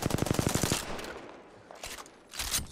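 Rapid automatic fire from an R-301 rifle in Apex Legends, a tight burst of about ten loud close shots, then a pause and a couple of fainter trailing cracks.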